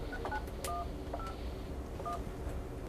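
A cell phone number being dialed, with a series of short, clear touch-tone beeps at irregular intervals over a steady background hiss.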